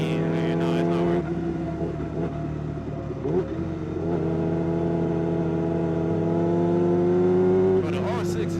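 A Yamaha R6 sport motorcycle ridden at night holds a loud, steady engine drone that steps through several gear changes and climbs in pitch, with someone talking over it.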